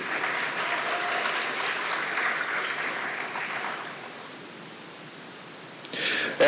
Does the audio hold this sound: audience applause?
yes